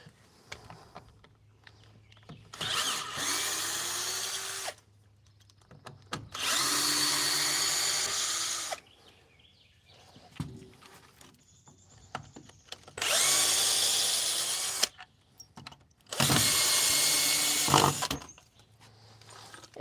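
A power drill spins out screws to take down a small wall shelf, four loud bursts of a few seconds each separated by quiet pauses, close up with no talking.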